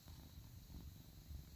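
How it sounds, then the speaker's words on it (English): A cat purrs close by, a soft steady low rumbling that continues without a break, quiet and heard alone. "I hear you purring."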